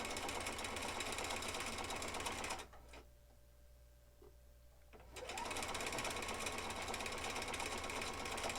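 A sewing machine stitching paired quilt block pieces runs at a steady, loud, close whir, stops briefly for a few seconds of near quiet, then resumes stitching.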